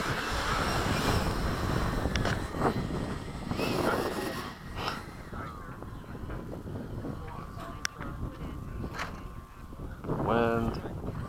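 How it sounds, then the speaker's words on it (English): Gusting wind buffets an outdoor microphone at a model jet flying field, a steady rushing roar with a faint tonal whine passing through, and a voice briefly heard near the end. "Wind."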